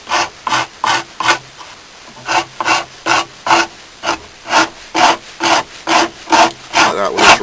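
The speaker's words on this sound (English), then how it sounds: "Like that with this rasp." A rasp works the wooden handle scales of a British Army survival knife in about twenty rhythmic, evenly spaced scraping strokes, loud and close, with no talking.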